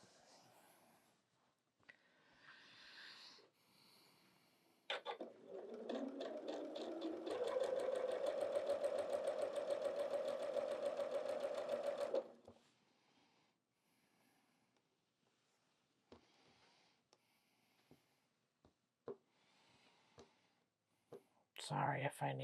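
A sewing machine stitches quilt fabric in one steady, buzzing run of several seconds, close and clear, with quiet handling clicks and soft talk before and after.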